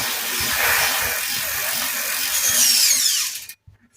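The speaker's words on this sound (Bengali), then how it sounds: "এবার চাকাটি ঘুরিয়ে আমি আপনারা দেখিয়ে দিচ্ছি" A bicycle wheel spins freely on its tightened chain, giving a loud hissing whir with fast ticking that fades as the wheel slows, then cuts off into near silence.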